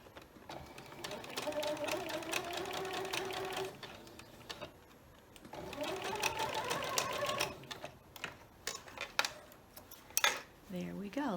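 A sewing machine sews quilt fabric in two bursts separated by a short pause, with close handling clicks and a voice talking over it.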